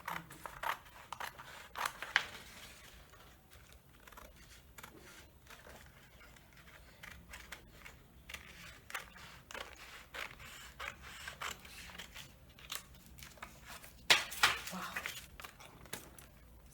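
Scissors snipping through paper while cutting out a trouser front pattern, soft irregular crisp cuts and rustles close by, fairly quiet throughout.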